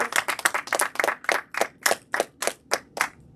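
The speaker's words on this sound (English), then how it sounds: "can we give these guys another round of applause or snaps or all of the above?" Small audience at a writers' event for Black fathers gives sparse, uneven applause, a handful of distinct close claps that thin out into separate, spaced claps and snaps before stopping.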